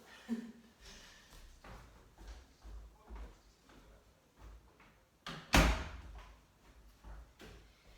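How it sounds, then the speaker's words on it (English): A door shuts with a single loud, close thud during an ashtanga yoga class, and the room is otherwise quiet apart from faint background noise and soft movement. "just going to shut the door"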